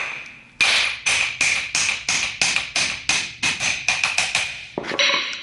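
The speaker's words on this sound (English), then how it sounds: "I just use a big brass bomby knocker, and you just whack them straight out." A big brass hammer knocks bushings out of a GTR differential being fitted into a Sonvia, sounding as a close run of about fifteen loud metallic whacks in an even rhythm, ending with a brief scrape.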